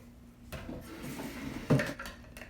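Metal lids going onto glass mason jars of raw vegan salad in a kitchen, a few close clinks and scrapes with one sharper knock near the end, no talking.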